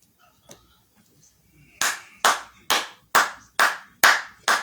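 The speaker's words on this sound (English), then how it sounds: "That's the first time I clapped for the police" Hands clapping seven times in a steady, even rhythm, loud and close, after a single faint earlier clap and near silence.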